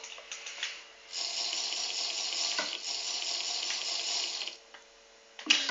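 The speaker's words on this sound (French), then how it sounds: "Et ça se remplit automatiquement de bouteilles d'eau." Water bottles filling automatically in a Minecraft potion factory: a steady, hissing rush of water pouring for several seconds, dipping briefly near the start and end, with a short clack at the close.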